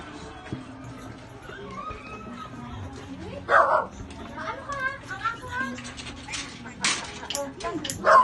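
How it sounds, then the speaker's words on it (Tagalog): A dog yips and barks in short bursts amid a noisy, busy background at a surprise birthday gathering, with faint voices and excited children nearby. "Aso."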